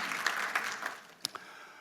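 A church congregation claps together briefly during a Sunday service, a dense patter of applause that fades out within a couple of seconds, leaving a few stray claps.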